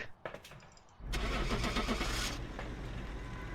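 A car in Phasmophobia: a few faint clicks, then the engine turns over and settles into a steady rumble as the vehicle drives off, loud and close, with no talking.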